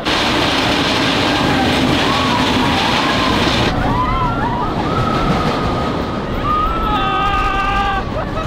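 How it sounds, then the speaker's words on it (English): A Disneyland ride running: a steady loud rumble of ride cars rolling along a track, with squealing metallic screeches from the wheels, continuous throughout. "my first Disneyland ride."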